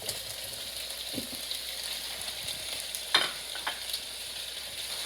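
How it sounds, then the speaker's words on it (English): Chopped tomato sizzles and crackles steadily with chickpeas in a hot pan, with a few louder pops and scraping stir sounds over the constant frying hiss. "These have been stir frying for a good 5 minutes"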